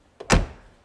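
A single heavy Porsche 944 S2 car door shuts with a solid, close thunk, preceded by a softer click of the latch; quiet otherwise.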